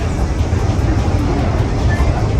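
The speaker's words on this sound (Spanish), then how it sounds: "Es algo muy refrescante viajar en estos trenes." Inside a Spanish commuter passenger train near Pinto, approaching Aranjuez: a steady low rumble and rattle of the carriage in motion, with faint rhythmic clicks over the constant hum and no clear speech.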